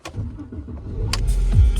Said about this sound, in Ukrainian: Автомобіль запустився без будь-яких нарікань.